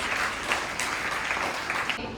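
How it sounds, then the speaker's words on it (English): At a school general knowledge quiz the audience gives a short round of applause, a dense wash of clapping that stops abruptly. "please give them a round of applause"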